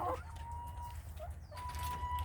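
Chickens clucking in a coop of about thirty laying hens, a few short clucks and calls against a low steady background hum, close and moderately loud.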